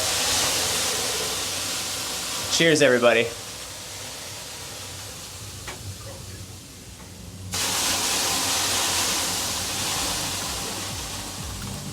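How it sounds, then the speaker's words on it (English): Sauna steam hisses loudly and steadily, fading briefly after a short spoken toast and then surging back as a broad, continuous rush. "we're gonna steam this place out and just keep sweating for a little bit"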